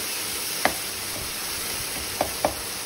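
Paneer masala frying in a pan, a steady soft sizzle with a few sharp spatula taps and scrapes from stirring, and no voices.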